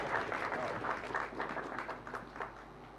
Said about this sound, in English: Ladies and gentlemen, a round of applause for our esteemed panelists, please.